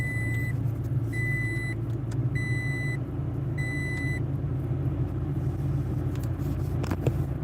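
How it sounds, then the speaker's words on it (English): A car engine rumbles at a steady idle close by, low and constant, with a few electronic beeps near the start and no talk. "Might as well start the car."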